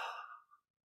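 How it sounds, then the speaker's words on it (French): A quick sighing breath during a relaxation breathing exercise, one short airy exhalation close to the microphone that fades out within a second. "Maintenant, une double inspire."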